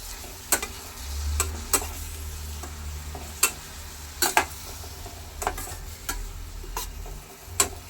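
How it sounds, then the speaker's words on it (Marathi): Chopped coriander sautéing in oil over a very low gas flame, with a faint low sizzle and irregular sharp clinks and scrapes of a spoon against the pan, close by and without talk. "गॅस एकदम मंद आहे अशा प्रकारे तेलावर ही कोथिंबीर व्यवस्थित परतायची आहे"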